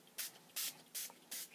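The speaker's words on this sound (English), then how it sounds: "I'll just kind of spray them all on" Four short, crisp hissing bursts of ink spray pumped onto an art journal page, evenly spaced and close, with quiet pauses between each spray.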